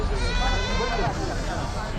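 Goats bleat repeatedly at the Chakan goat and sheep market, loud and close, with wavering cries over crowd noise and people talking nearby.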